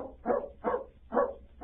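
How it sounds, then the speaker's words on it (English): A dog barks four times at an even pace in a scene from an old-time radio drama, moderately distant, with sharp yaps separated by short pauses and no voices over them. "The dog ran on ahead."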